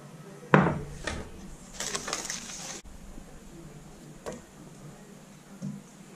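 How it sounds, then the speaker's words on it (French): Egg yolks and sugar are stirred together in a bowl, giving a few sharp clinks and taps of utensil against the bowl with soft scraping in between, close and sparse, no talking. "je vais rajouter mes jaunes d'œufs et je vais mélanger"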